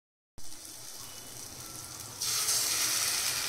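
After a moment of silence, food hits a hot pan and sizzles steadily, the frying hiss jumping louder and brighter partway through.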